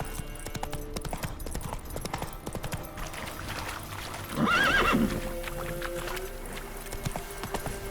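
The horse Roach gallops in The Witcher 3, with steady clip-clop hoofbeats over the game's background and a clear neigh near the middle.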